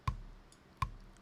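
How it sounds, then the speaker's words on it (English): Two sharp, evenly spaced metronome clicks sound on their own against near silence, crisp and close. "with the click on, it kind of sounds like this"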